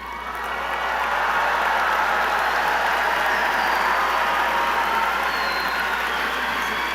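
Engineering graduates at a Georgia Tech spring commencement ceremony standing and cheering, a dense, steady roar of a large crowd in a big venue that swells in quickly and then holds loud throughout.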